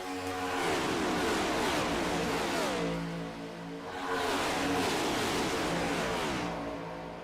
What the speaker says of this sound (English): Just wanted to see if the volume is good as these cars fly by you.